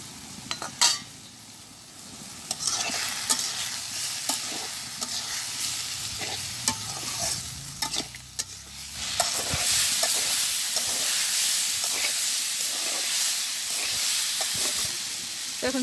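Green chillies are tossed into a lidded pan and stirred as they fry, with repeated sharp spatula knocks and scrapes over a sizzle that swells to a louder, denser hiss midway and stays high.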